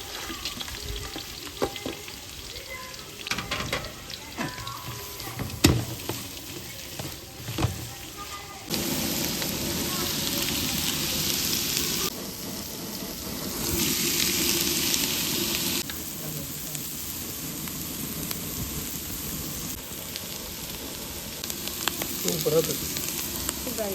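Carrots and chopped vegetables stir-frying for veg noodles, a steady loud sizzle with scraping stirs and clatter, surging into heavy bursts of frying noise partway through, no talking.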